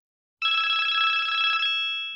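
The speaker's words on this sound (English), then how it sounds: "The landline in the kitchen." Landline telephone ringing in a kitchen, one loud, steady electronic trill lasting just over a second and then cut off, with a faint lingering tail and silence before it.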